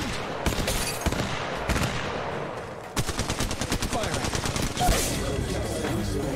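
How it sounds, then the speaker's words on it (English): Gunfire from an enemy team in Apex Legends Mobile rattles in rapid bursts, a loud close machine-gun string at the end after scattered heavier single shots earlier. "I'm getting shot from like another angle, I think, like down here somewhere"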